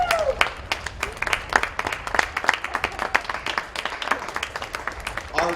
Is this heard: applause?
yes